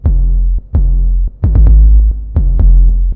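A hip hop beat made in FL Studio plays loudly, with heavy booming sub-bass hits and sharp percussive attacks in an uneven, syncopated pattern, without any voices.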